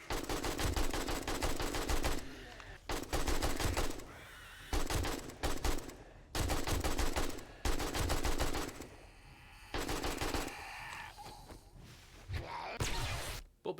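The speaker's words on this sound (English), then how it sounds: "we just pulled out the AK and unloaded" AK rifle gunfire in the zombie survival video game 7 Days To Die rattles out in several loud automatic bursts separated by short pauses, with other game sounds between them.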